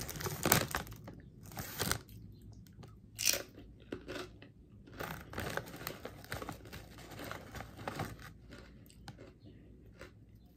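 Crisp, loud crunches of Doritos Tangy Ketchup and Hot Mustard tortilla chips eaten with a dipping sauce, close to the mic, in irregular bites with chewing between, with no talk over them.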